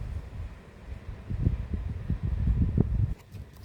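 Wind blows outdoors across the microphone in steady low rumbling gusts that swell and ease, with a brief lull near the end and no talking.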